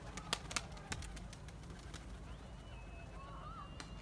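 Pigeons in a flock flying and settling in to land, with a few quick wing claps and flutters near the start over quiet outdoor ambience, then fainter soft sounds and a distant thin whistle later.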